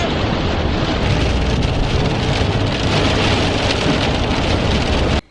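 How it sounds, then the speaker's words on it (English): Heavy rain pouring outside beyond an open curtain, a dense, loud, unbroken hiss of drops on surfaces that cuts off abruptly at the end. "You open up your curtain so you can see the rain."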